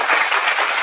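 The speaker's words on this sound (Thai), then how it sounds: "ผู้หญิงปรบมือหน่อย" Women in an audience clap together in a short, dense burst of applause, fairly soft and without speech.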